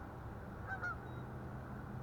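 Geese honking at a distance outdoors near a fishing spot, a short cluster of two or three faint calls over a steady low background hum.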